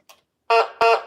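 A voice imitates a GG1 electric locomotive horn with two short, loud, blaring honks after a brief faint sound.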